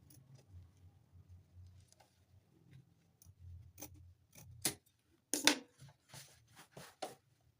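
Scissors trimming corset fabric: a few sharp, close snips and clicks, spaced irregularly against a quiet background with faint low rustling.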